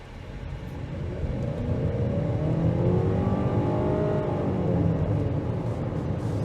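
A 2022 Honda CR-V EX-L Hybrid compact SUV pulls away from a stop and accelerates to about 50 mph. The engine note climbs steadily in pitch and loudness, close and continuous, with no talking.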